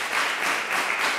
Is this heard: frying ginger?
no